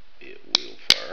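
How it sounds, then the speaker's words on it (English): Two sharp, close metallic clicks a third of a second apart as the safety slide is moved on a small Davis Industries .32 auto derringer with a pearl handle. "you slide that over to the left, and it will not fire. And if you slide it over,"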